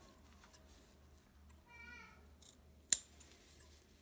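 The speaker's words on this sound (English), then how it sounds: "snip as close to that thread as you can without clipping it" Scissors snipping a thread close to the seam of a heavy cloth menstrual pad, one sharp close metallic snip standing out from a quiet room with faint background murmur.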